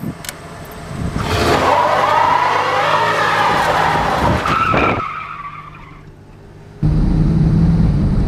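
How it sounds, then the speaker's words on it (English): A 1986 Ford Crown Victoria LTD does a burnout, its tires screeching loudly for several seconds over the engine's roar, then fading before the engine surges back in strongly. "And if you listen closely, it does do burnouts."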